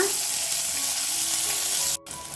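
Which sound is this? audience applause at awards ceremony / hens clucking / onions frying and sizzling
onions frying and sizzling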